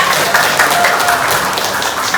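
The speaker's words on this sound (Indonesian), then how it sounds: "Berikan tepuk tangan untuk kelompok 3" Classroom applause for a student group after a presentation, a loud, close, continuous wash of many hands clapping together with no clear individual rhythm.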